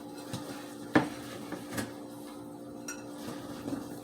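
Oreo cookies being stirred and crushed in a bowl for a poke cake: quiet scraping and clinking of a utensil against the bowl, with one sharper knock near the start, close and soft.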